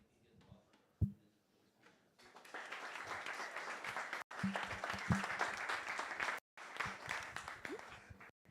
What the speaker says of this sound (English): if we would just give him some attention and a round of applause so that he can get started.